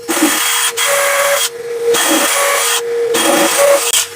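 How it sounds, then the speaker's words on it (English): A vacuum cleaner's loud, continuous whine runs close by, broken by a few short drops where a drill's buzzing motor briefly stops and restarts while drilling a wall. "The noise you hear is a hoover."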